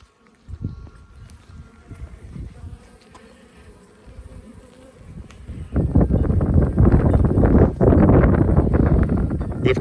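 Honey bees hum around an opened top bar hive during a spring inspection, the buzz low at first and swelling into a dense, loud close swarm drone with occasional wind rumble.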